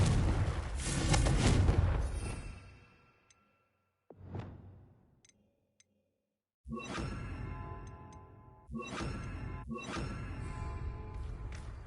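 Confringo blasting spell in Hogwarts Legacy bursting several times: a big rumbling explosion that fades, a whooshing cast, a silent gap, then three sharp blasts in a row with lingering crackle.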